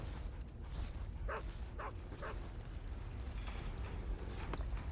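Dogs bark in the Metal Gear Solid 3 video game, three short distinct barks in the middle, heard over a dense, noisy game soundscape.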